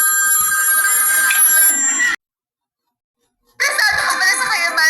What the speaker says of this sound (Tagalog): Nag-ring. Telepono. Ang lakas ng telepono.